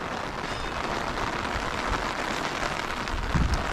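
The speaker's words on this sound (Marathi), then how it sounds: "पाऊसच पाऊस।" Heavy rain pours steadily at the thirteenth-century Pawakeshwar temple in Karad, a dense, continuous hiss of drops on surfaces with no talking.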